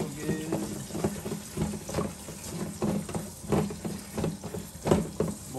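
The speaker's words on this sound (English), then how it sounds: "Rinse them off real good." Green beans being rinsed under a running kitchen tap, water splashing and pattering steadily into a sink with irregular bursts as the beans are handled close by.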